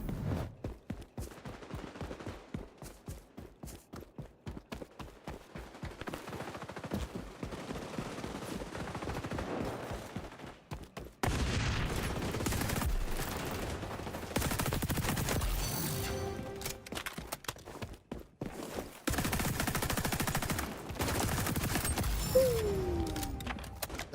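Rapid automatic gunfire in the multiplayer shooter XDefiant, fired in long fast bursts that run on amid dense, busy game noise and blasts for the whole stretch.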